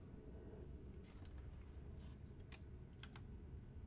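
Typing on a computer keyboard beside a Commodore Amiga setup: a scattered run of soft key clicks, faint and set back behind a steady hum of background noise.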